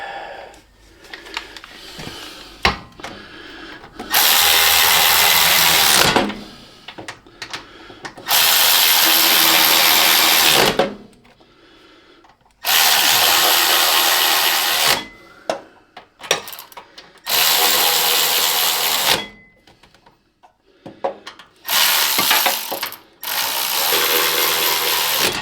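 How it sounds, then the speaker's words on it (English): A Milwaukee cordless ratchet whirs in loud, sustained bursts of a few seconds each, stopping and starting repeatedly during work on a Cub Cadet transaxle, with clicks and handling noises in the pauses. "Get our Milwaukee cordless ratchet."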